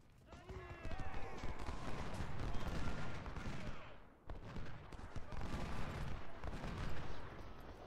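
Infantry rifle volleys in the Ultimate General: Civil War game at the Battle of Gaines' Mill, a dense crackling fusillade of gunshots rolling on for several seconds, briefly dropping before a second burst, with faint battle noise.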